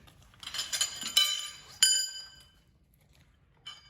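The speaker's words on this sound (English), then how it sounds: "Now if we empty out what we have in this tool pouch" Metal tools from a Dodge Ram spare-tire jack pouch clinking as they are emptied out, several bright rattling clinks and two sharper metallic impacts close by, then quiet.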